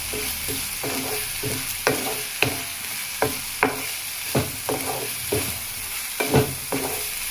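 Tomato curry with turmeric sizzles steadily in a hot pan while a spoon scrapes and stirs it in a run of sharp, regular knocks against the metal, close by with no talking.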